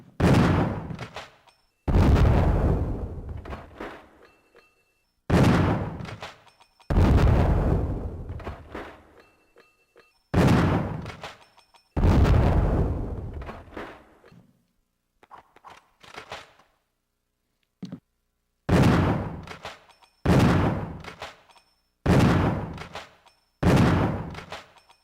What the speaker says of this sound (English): Now for the next weapon, the shotgun. Fires 12 gauge shells, a weapon that is capable of firing wide range.